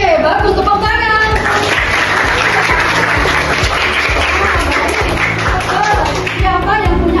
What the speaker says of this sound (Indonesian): Oke, bagus, tepuk tangan.